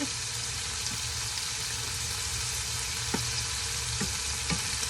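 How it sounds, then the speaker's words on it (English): Pork sizzles and fries steadily in a pan, a constant close crackle with a few faint clinks of stirring, no voices. "in with the pork so it has a chance to really start cooking"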